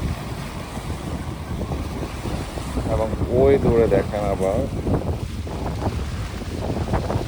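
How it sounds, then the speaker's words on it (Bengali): Wind-driven waves lapping on a lake with small hills in the distance, a steady washing rumble mixed with wind buffeting the microphone, while someone speaks over it. "ঢেউয়ের আওয়াজটা শোনেন।"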